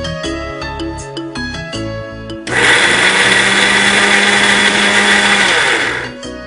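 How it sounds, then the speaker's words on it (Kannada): Amla is coarsely ground without water in a kitchen mixer grinder, which roars loud and steady for about four seconds before winding down. Louder beeps and tonal sounds come just before it starts. "ಮಿಕ್ಸಿನಲ್ಲಿ ಇಷ್ಟೇ, ಅಂದ್ರೆ ನೀರ್ ಹಾಕದೆ ರಫ್ ಆಗಿ ಸ್ವಲ್ಪ ಮಿಕ್ಸ್ ಮಾಡ್ಕೊಳ್ಳೋದು"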